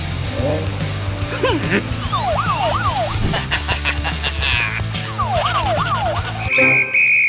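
A cartoon police car siren wails, sweeping up and down in two bursts amid busy cartoonish sounds, with voices and music underneath.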